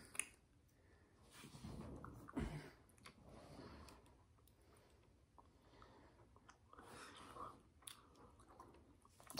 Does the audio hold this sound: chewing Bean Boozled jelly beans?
yes